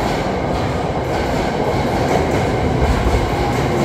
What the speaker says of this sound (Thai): รถไฟฟ้าสายสีแดง